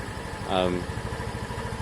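A Lexmoto Diablo 125 motorcycle engine idles close by with a steady, low, pulsing thrum. A brief voice-like sound rises over it about halfway through.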